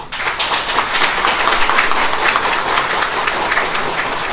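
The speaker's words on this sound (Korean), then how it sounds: "여러분 큰 박수로 맞이해 주시기 바랍니다" Audience applause at a press conference seminar greets a lawyer taking the podium, a dense, steady wash of many hands clapping that holds evenly for several seconds with no voices over it.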